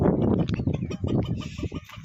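Free-range village chickens cluck and chatter nearby in a farmyard, a busy continuous flock sound with no talking.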